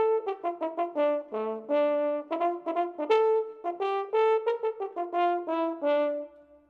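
Trombones in a children's cartoon play a bouncy tune of short, detached mid-range notes with a few longer held tones, loud and clear and heard alone.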